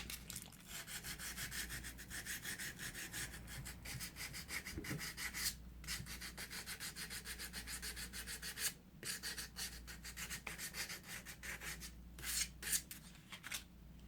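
Quiet, steady scratching and rubbing of 400-grit sandpaper scrubbing rust off an old North Brothers No. 2100 Yankee brace, with rapid back-and-forth strokes and a few brief pauses.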